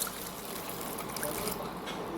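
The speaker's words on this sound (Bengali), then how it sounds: "বেশি করে জল দিয়ে দেবো।" Water poured steadily into dhokla batter mixed with lemon juice, a continuous close splashing trickle lasting about two seconds with no voices.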